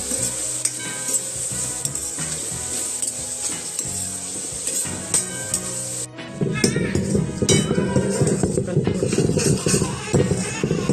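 Chicken and onions fry with a little salt in a pan, loud sizzling with clinks and scrapes of stirring; a voice speaks over the cooking in the second half.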